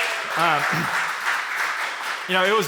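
A church audience cheers and applauds for a worship leader returning to the stage. Broad clapping and crowd noise fill the gap between bursts of a speaking voice.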